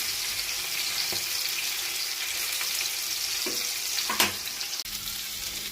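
Pointed gourd (parwal) curry frying in a pan without garlic or onion, a steady close sizzle with a few stirring clatters and scrapes and no talking.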